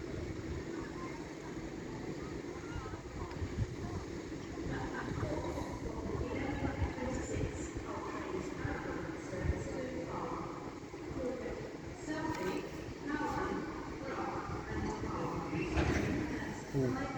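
A Hull Trains Paragon passes through Doncaster station on the East Coast Main Line, a steady rumbling rush of train noise at moderate distance that swells toward the end, with a voice speaking over it.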